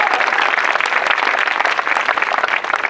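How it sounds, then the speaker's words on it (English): Loud, close audience applause at a Gaza fundraising event, a dense, even burst of many hands clapping with no voices on top. "Give yourself a round of applause."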